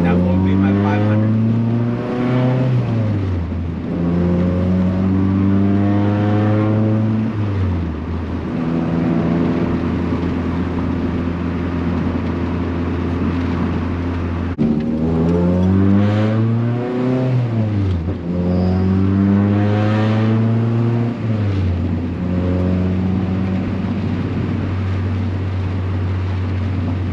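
A loud car with a newly installed McLeod B series clutch drives and accelerates repeatedly, its engine climbing through gears in rising, rumbling sweeps close by, with no talk over it.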